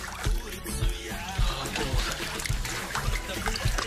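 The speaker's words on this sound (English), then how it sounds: "dropping into a 37-degree ice bath in the Irtysh River" Water splashes and sloshes as someone moves in a 37-degree ice bath in the Irtysh River after a sauna, uneven splatters amid voices and background noise.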